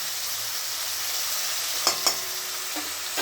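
Fish frying in a pan, a steady close hiss and sizzle of hot oil throughout, with a couple of brief louder pops or clicks partway through.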